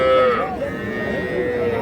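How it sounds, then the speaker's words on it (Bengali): At a crowded market selling young calves, a cow gives a long mooing call up close, its tone bending and fading, with a faint crowd murmur behind. "চতুর্পাশে শুধু গরু আর গরু"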